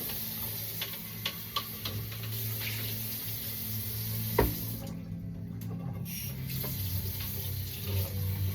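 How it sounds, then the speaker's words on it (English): Water runs steadily from a kitchen tap while a drink with taurine is being mixed, with a few sharp clicks and taps of containers, and a brief lull partway through. "So, gonna add water."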